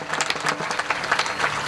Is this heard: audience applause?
yes